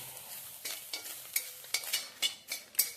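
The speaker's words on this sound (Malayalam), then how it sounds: "ഇതിലേക്ക് രണ്ട് കറിവേപ്പില കൂടെ ചേർക്കാം രണ്ടും നമുക്ക് നന്നായിട്ട് വറുത്തെടുത്തിട്ട് വരാം" Grated coconut with curry leaves dry-roasting in a pan, with a faint soft sizzle and a regular series of crisp scraping stir strokes about twice a second, close by and with no voices.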